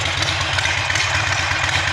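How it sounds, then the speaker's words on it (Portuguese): A Harley-Davidson motorcycle engine rumbles at idle, a steady, dense, low throb with even pulses, close and continuous with no voices. "O ronco da Harley é inconfundível."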